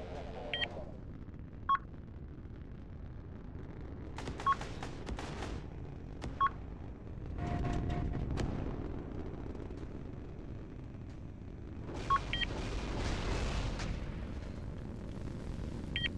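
Missile launch and impact in a naval video game during a 4v4 match with a container liner ship: repeated short electronic beeps over a steady low rumble, with heavy roaring bursts swelling around the middle and again near the end.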